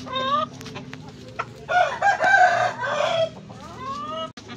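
A rooster crows loudly nearby among clucking chickens in a small backyard farm flock, with a long drawn-out crow in the middle and scattered clucks before and after, no talking.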